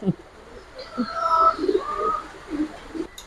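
Giribaz colouring pigeons coo nearby in a few soft rising-and-falling calls, clear and fairly loud, with no one talking over them.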